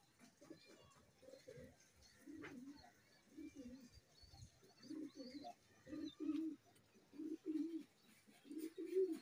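Neel Duma pigeons cooing in a series of soft, low, rounded coos in a rhythmic sequence, close by and fairly quiet, with brief background sounds between calls.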